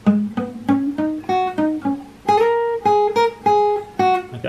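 Guitar playing a riff, a quick sequence of distinct plucked notes that climb and repeat in a bouncy rhythm; close, clean and alone.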